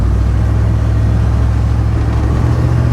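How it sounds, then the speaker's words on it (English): A Ford truck with a new tail pipe cruises near 45 mph on light throttle, its engine burbling in a steady, loud low rumble from inside the cab with no voices. "I can get off the throttle a little bit and it'll just kind of burble its way on the speed limit there"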